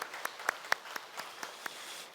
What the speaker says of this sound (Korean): 하나님 앞에 영광의 박수를 드리겠습니다.